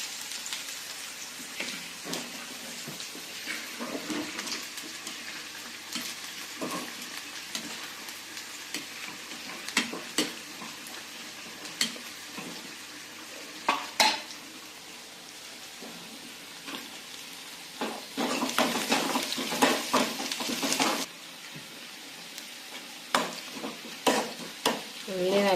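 Chicken frying in coconut oil for a Kerala-style chicken fry while being stirred in a pan, with a steady sizzle and repeated scraping stirs that grow busier toward the end.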